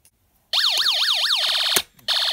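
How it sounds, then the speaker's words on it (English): A Snap Circuits motion-detector circuit sounds an electronic police-car siren, a loud, close warbling tone sweeping up and down several times, then a steady buzzing whine with a brief break. "it will sound like a police car siren whenever it detects motion"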